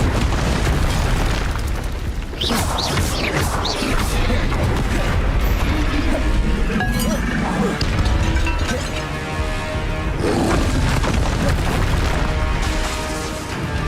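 Bombarda spell explosions in Hogwarts Legacy during castle duelling: a dense, continuous wall of booming blasts and bursting crashes that stays loud throughout, with magical effects layered over it and a voice faintly in the mix.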